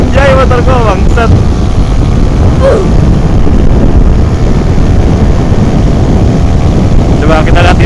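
Honda Beat scooter speeding along an open road, a loud, steady roar of engine and rushing wind that fills the whole stretch without letup.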